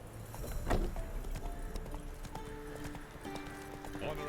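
Roach the horse gallops in The Witcher 3 through the Velen wetlands, a quick run of hoof clops with a brief snorting whinny early on, fairly soft and steady.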